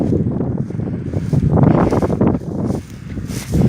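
Gusty wind buffets the microphone outdoors in Birds Hill Park, a loud continuous low rumble that swells and dips, with faint rustling underneath.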